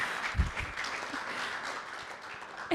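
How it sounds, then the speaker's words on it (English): Applause for the moderators at an adolescent sexual and reproductive health session in Ghana, a moderate hall of clapping blended into a steady wash, with a few louder thumps near the microphone. "can we give a round of applause to our wonderful moderators?"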